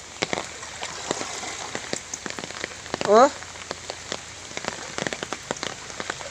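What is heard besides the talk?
heavy rain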